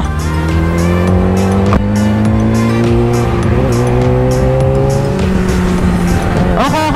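Car engine droning loud and close with tires squealing as the vehicle makes a U-turn, the engine pitch holding steady before dipping and rising near the end.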